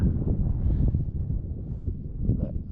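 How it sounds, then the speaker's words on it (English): Gusty wind buffets the microphone on a mountain trail at Government Peak in Alaska, a steady low roar that rises and falls without a break. "it's still too windy yet, unfortunately"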